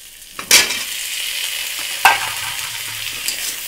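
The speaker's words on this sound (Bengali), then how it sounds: "আলুটা একটু কষে নেবো।" Potatoes stir-fried in a pan after onions, a continuous sizzle broken by a couple of sharp scraping stirs near the start and middle.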